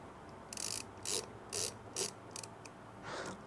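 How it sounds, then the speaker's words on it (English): Screws being driven and tightened on a Voron 0.2 3D printer frame, a series of about six short ratcheting, clicking bursts in quick succession, close and fairly quiet with no talking. "I'm going to start locking these screws down"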